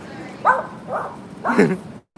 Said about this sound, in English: I thought that dog was gonna eat me alive